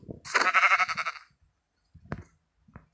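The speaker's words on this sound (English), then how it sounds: "Nothing for me other than to crit attack the sheep." A Minecraft sheep gives a loud, wavering bleat as a player crit-attacks it, followed by soft thuds of the hits and movement.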